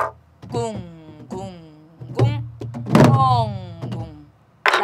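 A Korean buk barrel drum is played in the jungmori rhythm of traditional music: a handful of deep thumps and sharp taps sound close, under a voice chanting the drum syllables.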